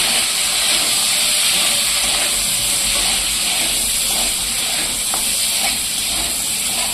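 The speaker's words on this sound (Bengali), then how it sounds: "বড় বড় করে কেটে রাখা পেঁয়াজটা আমি কড়াইতে দিয়ে দিলাম। এবার পেঁয়াজটা ভালো করে ভেজে নেব।" Large chunks of onion hit hot oil in a kadai wok, raising a loud, steady, broad hiss that holds evenly throughout with faint stirring underneath and no speech.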